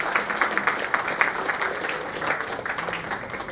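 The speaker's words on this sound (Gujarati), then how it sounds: "આપણી તાળીઓનો ગુંજારો સતત ચાલુ રહેવો જોઈએ" A hall audience at a Laghu Udyog Bharati small-industry event claps in dense, continuous applause that holds steady, loud and close.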